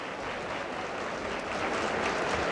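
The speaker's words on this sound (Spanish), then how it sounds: "a recibir los últimos aplausos de esta temporada de ópera internacional" Audience applause after a performance of the opera Faust at the Palacio de Bellas Artes, a dense, continuous ovation of many hands clapping that swells slightly in loudness.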